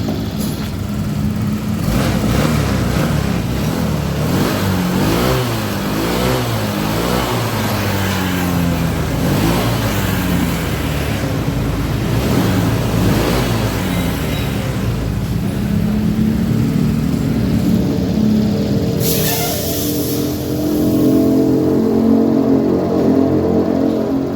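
A repaired Honda Vario 125 motorcycle engine runs steadily and loudly up close, its tone rising and falling as the throttle is worked, with a brief sharper burst of noise near the end and no talking.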